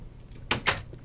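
A wooden door in the game Minecraft swings open or shut, two quick close creaking clacks a fraction of a second apart over a quiet background hum.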